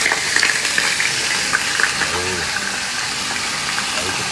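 Pork ribs fry in a pan in a home kitchen, giving a steady sizzle with some stirring and clatter. The frying stays close and fairly loud, with background noise under it.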